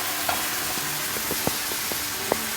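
A steady broadband hiss of wine sizzling in a hot pan with chicken and mushrooms, with a few faint clinks and stirring taps over it.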